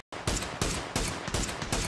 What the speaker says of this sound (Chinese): STK 这个乱石阵忍了很久啊，终于有了开枪的机会